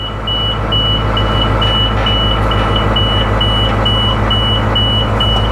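An old school bus is put into reverse: a regular, evenly spaced backup beep repeats loudly over the heavy, droning rumble of its idling engine.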